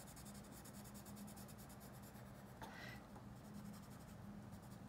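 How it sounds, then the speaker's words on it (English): Colored pencil rubbing steadily on paper while coloring in a drawing, a soft, continuous scratchy shading sound with a brief louder stroke midway, close and quiet with no talking. "I'm just going to color in the top plane of this object."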